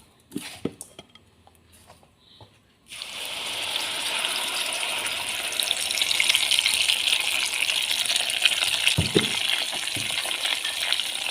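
Ground spice paste hits hot oil in a pan for milkfish with basil, bursting into a loud, steady sizzle after a few quiet seconds of light clinks and stirring, then crackling on continuously with occasional scrapes.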